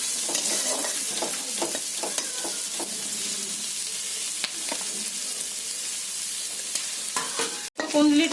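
Ivy gourd (kundli) fries lightly in a pan with a steady close sizzle, punctuated by repeated scraping stirs and clicks of a utensil against the pan.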